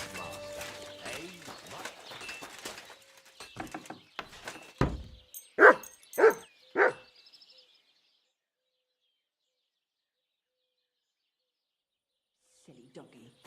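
A dog barks several times in a medieval village scene in the game Kingdom Come: Deliverance II. The barks come as a short burst of loud, close yaps after character voices talk over background ambience, followed by near silence.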